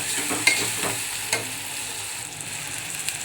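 Turmeric gets stirred into a frying pan of hot oil, a steady moderate sizzle with a few crisp spatula scrapes near the start, then a calmer continuous hiss.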